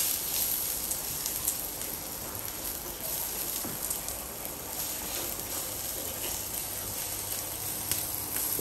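Onions sizzle in a hot pan while Orishirishi cooks, a steady faint crackling hiss that runs continuously, with scattered small pops and no voices.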